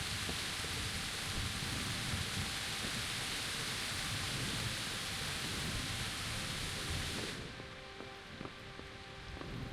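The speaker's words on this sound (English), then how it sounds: "It is raining." Steady, dense rain hiss in the video game Kingdom Come: Deliverance fills the scene, then thins slightly near the end as a few faint tones and ticks emerge.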